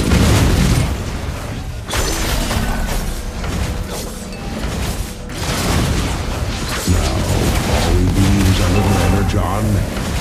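Mobile Legends game audio of a turret being destroyed, with heavy booming blasts and mechanical crashes layered over dense battle effects and announcer-style voice lines, staying loud throughout.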